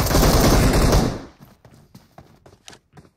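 Gunfire in the mobile battle-royale game BGMI: about a second of loud, dense continuous shooting, then a string of sharp, scattered single shots and thuds trailing off.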